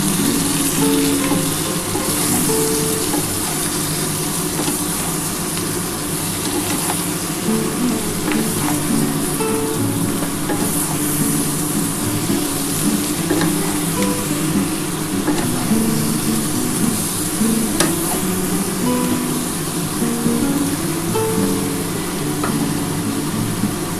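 Chopped Malabar spinach (pui shak) with a pinch of sugar fries in fish oil in a pan for chorchori, giving a loud, continuous close sizzle with steady stirring and occasional utensil scrapes, and no talking.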